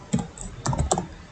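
Several clicky keystrokes from a computer keyboard come in small irregular clusters as an SQL query is typed, close up over faint room hiss, with no voices.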